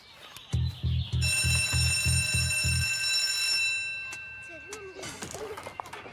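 A school bell rings in a rapid metallic burst of about seven loud strikes, then leaves a long ringing tone that fades away before children's voices and chatter rise at the end.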